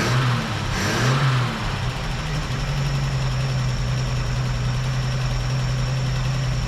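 A 1958 Chevrolet Apache truck engine idles with a steady low rumble, close and loud, after a brief revving surge at the start, running evenly without voices.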